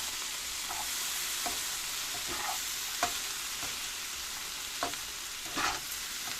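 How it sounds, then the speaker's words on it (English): A homemade stir-fry is stirred in a hot pan, a steady hiss of frying broken by several soft scrapes and knocks of the utensil against the pan, with no voices. "And now we're just going to stir this all about."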